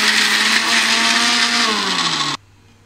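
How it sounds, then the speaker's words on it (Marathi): A mixer grinder whirs loudly and steadily while grinding masala paste without water for a black-eyed pea and potato curry, then cuts off abruptly near the end. "पाणी न टाकताच वाटून घ्यायचं आहे."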